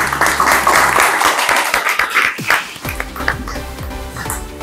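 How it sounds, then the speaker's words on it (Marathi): Loud applause breaks out for the founders of a wrestling gym at a summer wrestling training camp, with dense clapping that thins out over a few seconds as a low hum runs beneath. "आपण जोरदार एका टाळ्या वाजवून टाकू"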